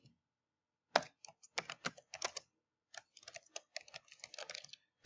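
Someone types a file name on a computer keyboard, crisp close key clicks in two quick bursts with short pauses, alone in a quiet room.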